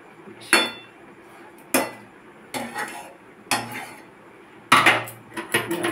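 A spoon scrapes and knocks against a metal wok while sago khichri is stirred: about six sharp, close clanks spaced roughly a second apart, with quiet gaps between them and no talking.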